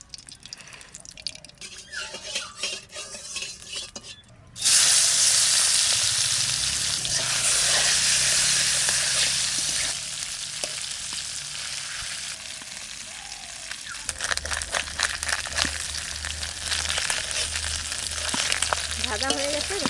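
Food sizzles loudly in hot mustard oil in a pan, a steady crackling fry that starts abruptly and continues close by, with brief talk before it begins.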